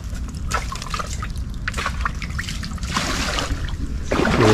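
Water bubbling and trickling in a fish trap, a continuous close gurgle with small drips and sloshes, faint voices in the background.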